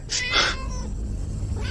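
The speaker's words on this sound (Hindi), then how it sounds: "ये बिल्ली इतनी जोर से रो रही है" A cat lets out a loud, strained caterwauling cry at close range, then fades into a lower murmur before starting another wail.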